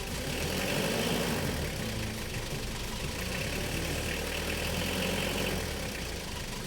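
A car engine idles steadily with a low, even rumble, no speech.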